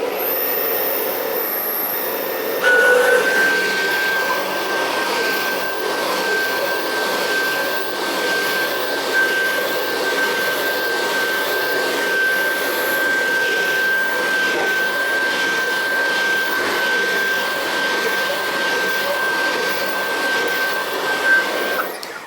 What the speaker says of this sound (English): Now the first thing you want to do is vacuum it.